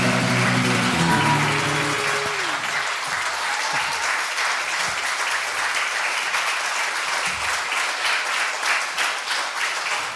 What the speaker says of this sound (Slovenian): sem vas mogel prekiniti s ploskanjem